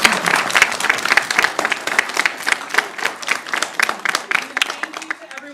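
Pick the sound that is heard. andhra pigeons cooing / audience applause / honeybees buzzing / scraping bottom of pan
audience applause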